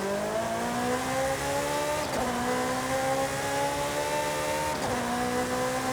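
A Ferrari F8 Tributo's turbocharged engine revs and shifts up through the gears in Forza Horizon 5, a rising whine interrupted twice by gear changes, loud and continuous with no talking.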